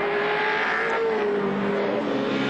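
Allan Grice's VH Commodore race car at Bathurst in 1982 shifts down a gear, a loud, sustained engine drone with shifting pitch as it drives on.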